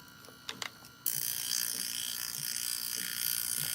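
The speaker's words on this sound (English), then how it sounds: "Today we're using Evian because I just like the mist." Evian water facial mist spray hisses in one long continuous burst, close and fairly loud, starting sharply after a few small clicks and holding steady to the end.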